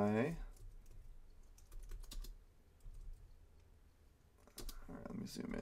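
Typing on a computer keyboard sounds as scattered, soft, close key clicks in short irregular runs, with a voice speaking briefly at the start and end.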